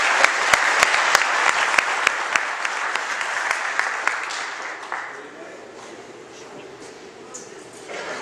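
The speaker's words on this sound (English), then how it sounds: "Let's give them all a big hand now." Audience applause at a startup awards ceremony, loud and sustained with a few sharp distinct claps standing out, then fading to a quieter murmur of the room toward the end.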